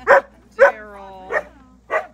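An excited poodle gives four sharp, close barks spaced roughly half a second apart, loud and clear with no talking over them.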